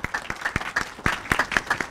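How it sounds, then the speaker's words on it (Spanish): An audience at a forensic toxicology conference applauds, with a brief burst of scattered, moderately loud claps that keep an uneven rhythm for the whole moment, and nobody speaks. "Damos un aplauso, por favor,"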